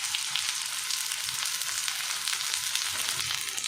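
Sliced onions fry in about 50 grams of hot mustard oil, producing a dense, even, close sizzle that holds steady throughout without talking.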